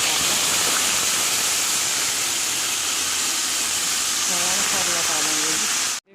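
Cumin seeds sizzling in hot oil in a home kitchen, a loud, continuous hiss with a brief voice partway through before it cuts off abruptly.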